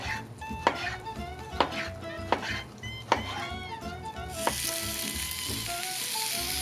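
Pineapple sizzling on a hot grill, a loud steady frying hiss with several sharp clicks and taps of utensils against the pan, the sizzle swelling brighter toward the end.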